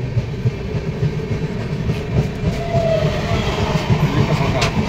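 Inside a moving passenger train running from Howrah to Prayagraj, a steady low rumble with faint rhythmic wheel clatter continues throughout, close and even in level, with no talking.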